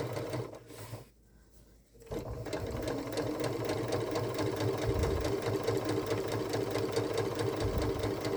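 Sewing machine stitching around the toes of a fabric Christmas stocking, a steady rapid mechanical whirr running continuously after a brief pause near the start, close and fairly loud.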